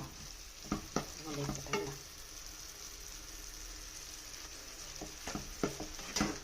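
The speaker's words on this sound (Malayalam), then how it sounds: "ഇതൊന്ന് വരണ്ട് വരട്ടെ, പച്ചമണമൊക്കെ മാറി എണ്ണയൊക്കെ തെളിഞ്ഞ് ഒന്ന് വരട്ടെ" Chicken curry masala frying in oil on a Kerala stove, a faint steady sizzle with intermittent spatula scrapes and stirring clinks against the pan, close and without talk.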